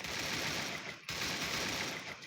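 Sustained automatic machine-gun fire in a video game, a dense, continuous rattle that breaks briefly midway before the burst resumes.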